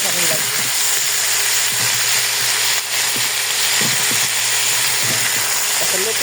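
Sliced potatoes and flat beans fry in a pan, a loud dense sizzle running steadily throughout with occasional soft stirring scrapes close by.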